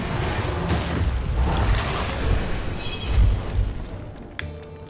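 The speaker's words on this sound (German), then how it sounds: "Diese Dinger scheinen wirklich derbe zu explodieren." Dense, rumbling soundscape from the video game Victor Vran with repeated deep booms of explosions, a heavier blast near the middle, over continuous noisy action.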